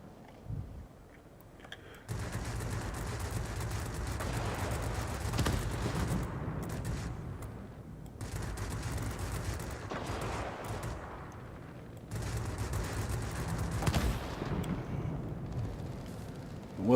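Yak-30 fighter machine guns firing during an aerial fight in a video game, three long sustained bursts of dense rattling fire separated by short gaps, moderately loud against engine drone.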